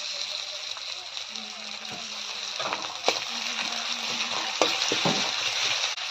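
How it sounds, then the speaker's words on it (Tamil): Steady, close sizzle of ginger garlic paste frying in a pan, with occasional stirring knocks and scrapes, while a voice talks over it in spots. "இஞ்சி பூண்டு பேஸ்ட்டையுமே பச்சை வாசனை போகிற வரையும் நல்லா வதக்கிக்கலாம்"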